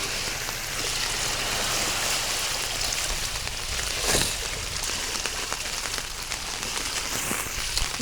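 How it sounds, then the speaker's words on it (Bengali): Heavy rain falls during a Sylhet flood, a dense steady hiss of drops with rushing water and wind underneath and a brief louder gust midway, without talk. "আবার খুব বৃষ্টি হচ্ছে খুব"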